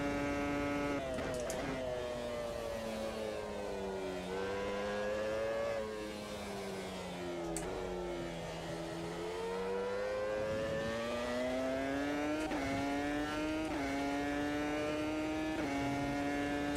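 A race car engine in a sim racing video game revs steadily, its harmonics rising and falling through throttle changes and downshifts, loud and continuous with no talk over it.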